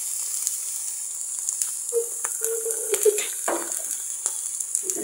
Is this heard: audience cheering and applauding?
no